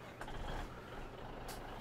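A truck in Farming Simulator 17 idles with a steady low engine rumble, with a faint hiss and a brief higher-pitched sound over the top, all quiet and continuous.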